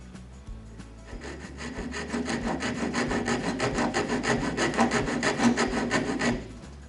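A hand saw cuts through a piece of wood clamped in a bench vise, its strokes building into a steady, close, rhythmic rasp with no voices.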